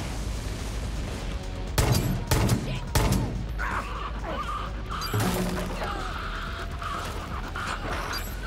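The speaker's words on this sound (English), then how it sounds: "Judge is actually shooting really quickly" Gunfire from the companion Judge in the Far Cry New Dawn video game: a few rapid, loud bursts of shots with sharp cracks, followed by lighter game noise and faint background sounds.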